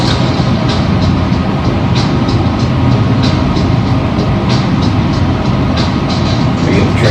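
Subway train in the Teenage Mutant Ninja Turtles Mutants Unleashed video game, a loud, steady rumbling roar through a tunnel with constant low-end drone and faint rattling, unbroken for the whole stretch.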